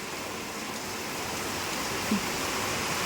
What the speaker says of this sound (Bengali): বলতে না বলতেই মুসুলধারায় বৃষ্টি শুরু হয়ে গেছে